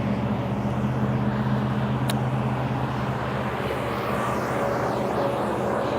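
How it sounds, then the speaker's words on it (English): A concrete truck drives past on a road outside, a steady low engine rumble and tyre roar that stays loud and constant, then gradually eases as it moves away. "I say that as a concrete truck drives by."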